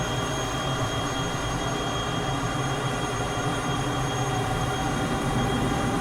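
An F-14B's jet engine spools up in a flight simulator, a dense, steady roaring whine with a high tonal component holding loud and even throughout, no voices over it.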